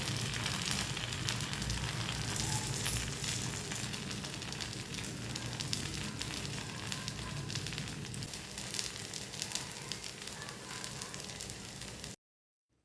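Paniyaram frying in oil in a pan gives a steady, close crackling sizzle that holds evenly for about twelve seconds before cutting off abruptly, with no talking.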